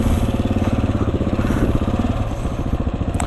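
A Husqvarna 701 supermoto motorcycle engine idles close by, steady and loud, with a fast even pulsing thump throughout.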